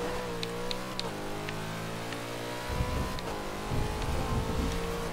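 A car engine drifting in the Forza Horizon 2 video game, a steady high revving whine that rises and falls, then joins rough tire scrub and rumble as the slide continues.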